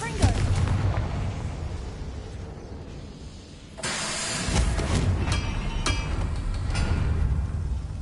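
Fiery Confringo spell blasts from Hogwarts Legacy erupt abruptly and keep crackling with several sharp bursts, heavy and close, layered over a dense game soundscape.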